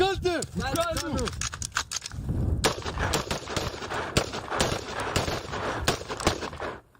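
Gunfire rings out at a snowy military shooting range at a Mount Hermon outpost, with rapid cracking shots over a busy, echoing background after a voice is heard at the start.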